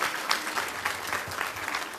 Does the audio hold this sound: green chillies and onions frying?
no